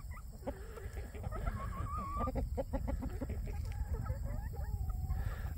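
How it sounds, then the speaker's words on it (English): Chickens cluck and murmur steadily at close range, with several overlapping birds and a constant low rumble of background noise. "There's your chickens, kitchen scraps."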